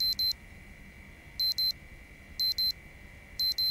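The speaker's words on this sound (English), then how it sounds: "Alarm." A digital alarm clock in the video game Project Zomboid rings in four bursts of paired high beeps, steady and moderately loud over a faint constant hum, with no talking.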